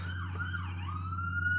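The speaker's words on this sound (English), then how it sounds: "Now here the ambulance is going past my house." An ambulance siren passes a house, its wailing pitch sliding down and back up over a steady low engine rumble, clear and fairly close, with no voices.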